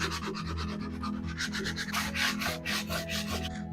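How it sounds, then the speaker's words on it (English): Sandpaper wrapped on a block rubs back and forth across wood in steady, close, rasping strokes with no voices. "just a block of wood and a piece of sandpaper"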